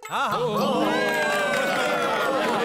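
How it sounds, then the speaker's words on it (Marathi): A crowd at a housing society gathering cheers and shouts with scattered clapping, loud and close, swelling right away and holding steady throughout. "माधवी वहिनीसाठी जोरदार टाळ्या होऊन जाऊ द्या"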